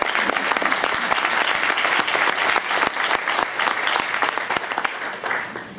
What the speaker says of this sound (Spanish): mi aplauso para el doctor Eduardo Collantes